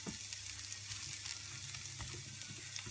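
Small onions sizzle and fry steadily in a well-heated pan, a continuous close crackling hiss with faint stirring, no voices.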